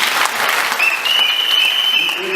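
Crowd applause at a political rally in Koumassi, a dense, steady clapping filling the space after a minister is named, with a faint whistle-like tone running through the middle.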